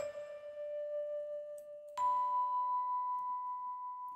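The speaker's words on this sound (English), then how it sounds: "So it's actually a really nicely sampled vibraphone." Sampled vibraphone patch from the Abstract Vibes virtual instrument, two sustained mallet notes ringing out clearly with long, smooth decay, the second struck about halfway through and a bit brighter, heard alone without voices.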